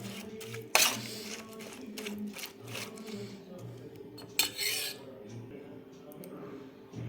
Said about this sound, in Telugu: ఇప్పుడు ఈ అటుకులు పెరుగు చక్కగా కలిపేసుకోవాలి